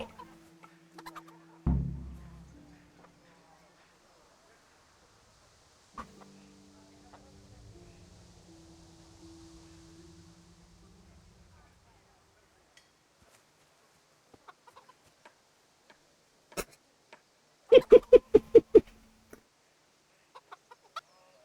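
Chicken clucking in the medieval video game Kingdom Come: Deliverance, a few short clucks and squawks near the start, then a burst of sharp rapid squawks later, separated by quiet stretches and faint game sounds.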